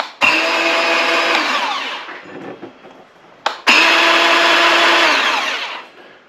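A 20V cordless rototiller for a raised garden bed revs up in two loud bursts of whining motor, each spinning down before the trigger is pulled again.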